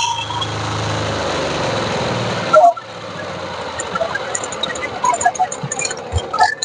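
A Texas power weeder engine runs at an agricultural exhibition stall, a steady, fairly loud small-engine buzz that cuts off abruptly after a few seconds. Nearby voices and fair chatter follow in the background.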